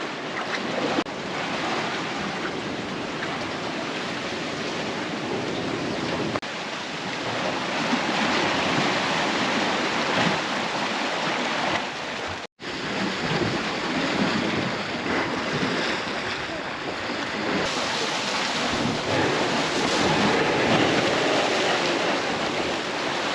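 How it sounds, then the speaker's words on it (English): Heavy surf crashes and surges continuously against rock formations in the Galapagos, loud and close, with wind buffeting the microphone throughout. "The surging waves make for quite a spectacle as they rise up through the formations."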